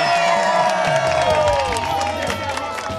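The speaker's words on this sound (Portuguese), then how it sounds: "Vamos aplaudir o time" A crowd cheers and applauds at a summer beach game event in Praia Grande as a women's team finishes, with loud whoops and clapping filling the whole stretch and some children's shouts mixed in.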